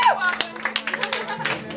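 Scattered hand claps from a live convention audience, irregular and moderately loud, with voices murmuring underneath.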